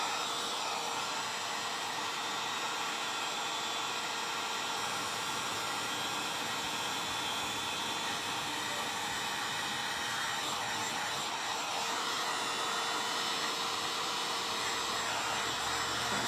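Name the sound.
hair dryer drying paint on wooden pumpkin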